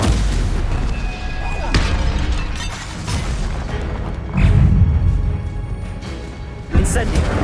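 Stupefy stunning spells fired in Hogwarts Legacy on PS5, loud magical blasts and booming impacts layered over continuous game music and combat noise, with heavier hits near the middle and end.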